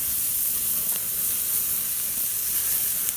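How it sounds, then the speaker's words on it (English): Bacon sizzles and flares on an outdoor grill in a steady, loud, dense crackling hiss that continues without a break, close up and with no voices. "And bacon does flare up when you cook it like this."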